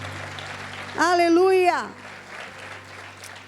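A church congregation applauds during a sermon, a continuous wash of clapping that carries under a voice calling out, steady and fairly loud from start to finish.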